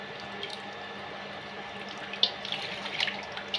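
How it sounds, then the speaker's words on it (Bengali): Meat is washed under a running tap outdoors at a village picnic, a steady hiss of flowing water with small splashes and drips close by. "ভালো করে আমরা ধুয়ে নেব মাংসটা আগে।"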